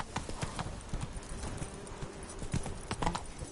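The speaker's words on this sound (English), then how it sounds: "Whoa there, Roach" Horse hooves clip-clop in a steady repeated rhythm in a video game, quite close, with faint low game ambience underneath.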